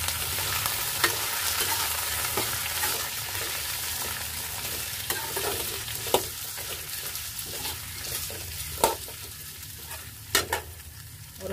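Potatoes and onion stir-fry in a pan: a continuous soft sizzle broken by repeated scraping stirs and occasional sharper clacks of a spatula against the pan. No one speaks.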